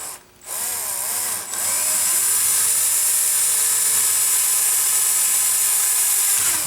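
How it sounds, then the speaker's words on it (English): A power drill whines at high pitch after a couple of brief starts, then runs steadily for several seconds drilling a hole in a part for an RC Bruder bulldozer, close and loud. "And drill a hole in it."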